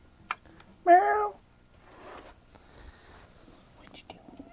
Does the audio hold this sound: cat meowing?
yes